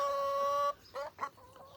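Chickens cluck in short bursts nearby after a steady high tone cuts off.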